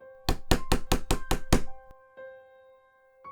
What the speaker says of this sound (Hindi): फिर से दरवाजे पर दस्तक हुई।